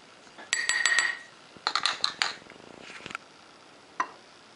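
Spoon clinking against a mixing bowl while stirring dry eggless banana cake batter with cinnamon powder, a quick run of bright taps followed by scattered scrapes and a final lone clink.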